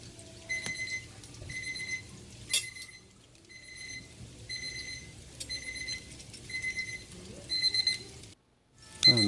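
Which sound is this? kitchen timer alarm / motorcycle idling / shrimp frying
kitchen timer alarm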